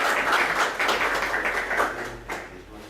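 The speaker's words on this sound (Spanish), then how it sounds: "un fuerte aplauso" A live audience applauds a speaker, producing a moderate, short burst of crowd clapping that gradually tapers off.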